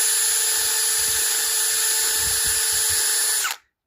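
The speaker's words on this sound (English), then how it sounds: "drilling holes in the bucket in a" Power drill boring holes in a plastic bucket, a steady high whine running close and loud for about three and a half seconds before stopping abruptly.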